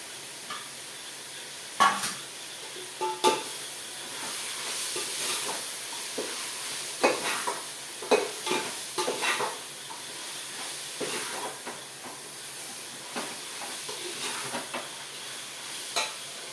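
A handful of mint and coriander leaves fries in a pan, giving a soft steady sizzle with scattered crackles and occasional stirring scrapes, fairly close and quiet, with no talking.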